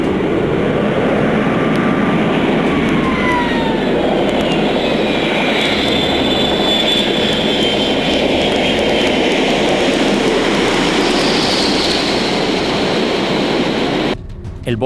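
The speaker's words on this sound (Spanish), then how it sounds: "El avión Boeing 777 estaba acelerando a toda velocidad para despegar" A Boeing 777 airliner accelerates down the runway for takeoff, its jet engines a loud, continuous roar with rising whines that stops abruptly near the end.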